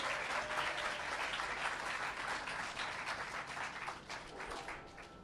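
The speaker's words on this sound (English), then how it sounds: "Let's give them all a round of applause." A crowd at a groundbreaking ceremony for a new performing arts venue in New York applauds, dense steady clapping that fills the whole stretch and eases slightly toward the end, heard from some distance.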